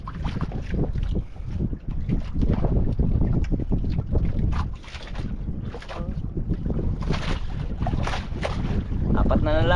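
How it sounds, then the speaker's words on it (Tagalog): A small boat moves off on open water amid strong wind buffeting the microphone and splashing, loud and continuous, with voices faintly present. "Alis ang bangka."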